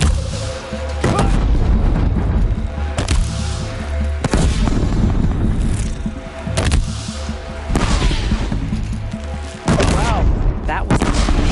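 Gunfire and heavy explosions in the video game Horizon Zero Dawn, a dense, loud barrage of shots with sharp booms landing every second or two over a continuous rumbling battle din.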